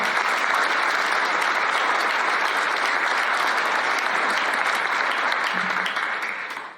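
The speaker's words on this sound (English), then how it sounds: "I think if we give another round of applause for the whole panel." A large audience at a community information and discussion event gives a sustained round of applause for a panel, a dense, even clapping wash lasting several seconds before it starts to fade.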